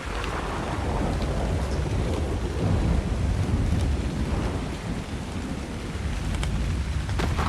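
A thunderstorm in the highlands of a survival video game, with heavy steady rain and low rolling thunder forming a dense, continuous rumble that swells and eases slightly, with no voices.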